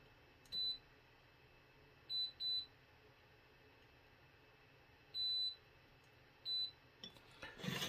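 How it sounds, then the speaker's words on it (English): A multimeter in continuity mode sounds a series of short, clear high beeps while testing an amplifier circuit board for solder bridges. There are about five separate beeps, some doubled, over a quiet background, ending in faint handling noise. "Now I'm going to do my continuity test again."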